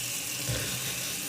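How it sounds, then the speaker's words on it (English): A water tap running steadily into a sink while something is rinsed under it, a close, continuous broadband hiss that lasts the whole moment without a break. "Let me rinse this off, okay?"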